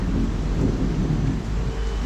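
Low rumbling thunder from rain clouds during the onset of rain in Pune, a steady broadband roll under falling rain with no voices.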